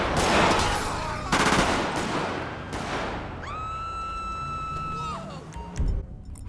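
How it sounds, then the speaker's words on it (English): Gunfire in the game GTA: a few loud, sharp bursts in quick succession, then a rising, sustained whine and a final thump, all close and prominent. "A loud gunshot pierced the air, shattering the stillness of movement."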